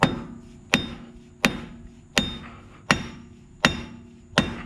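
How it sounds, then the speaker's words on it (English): A hammer strikes metal seven times at a slow, even pace, driving in a truck ball joint, each blow sharp and ringing briefly before the next. "I need a heavier hammer."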